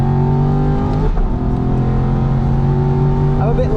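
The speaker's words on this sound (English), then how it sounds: "Enjoy the torque of the big V8." Aston Martin V8 Vantage GT4 race car with a big V8 and paddle shift, its engine droning loud and steady on track throughout, with harmonic pitch holding level under load before a slight rise near the end.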